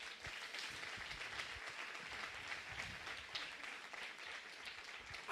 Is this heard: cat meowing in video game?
no